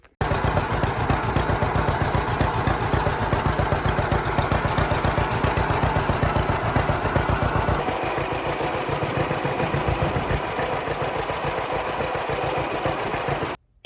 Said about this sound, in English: And I might even start my tractor.